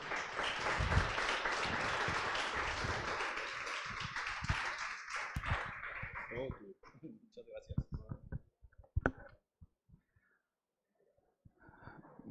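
An audience at a talk on data innovation and city challenges applauds to welcome a speaker, dense clapping for several seconds that thins into scattered claps, then fades to near silence with a voice beginning.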